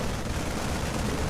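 Units in the StarCraft II co-op video game shoot, producing dense, continuous rattling gunfire with low booming impacts, loud and close, without speech.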